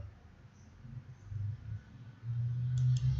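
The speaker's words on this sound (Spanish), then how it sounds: "Hago un clic aquí y le puedo aplicar de lo que estoy viendo" Computer mouse, clicked while a document is formatted: two quick, crisp clicks land close together near the end, over a low hum and a murmuring voice in the background.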